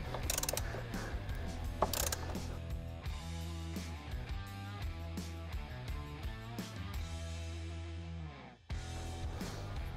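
A ratchet works loose the T50 Torx steering-wheel bolt on a C8 Corvette, giving quick, even mechanical clicks in a steady run, fairly quiet and close, with a brief pause near the end.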